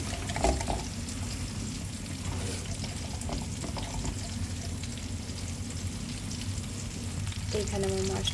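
Eggplant and potato sizzle and crackle in hot oil with hilsa curry spice paste, a steady close frying hiss with occasional stirring clinks and faint talk.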